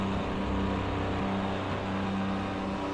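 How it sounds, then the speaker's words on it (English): A Renault RS 01 race car in Project Cars 2 on PS4 drones past in the background, a steady, moderately loud engine hum with no speech over it. "And we hear a car come in the background"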